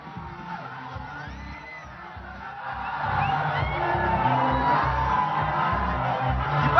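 A Yuva Sena crowd celebrates the Mumbai University senate win outside Matoshri, with a murmur of voices swelling about halfway through into louder sustained cheering and whooping.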